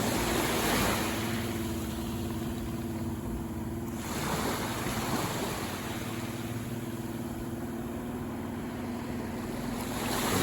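A two-stroke outboard engine on a beach fishing boat idles with a steady drone and low throbbing hum beside the sea, with wash and surf noise throughout.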